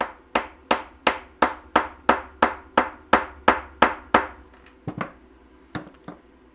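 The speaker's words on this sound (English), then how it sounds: "I'm going to take a rawhide mallet and give that a tap on top" A rawhide mallet strikes the top of a ring mounting in about a dozen crisp, evenly spaced taps, then a few softer, scattered knocks follow. The sound is close and there is no talking.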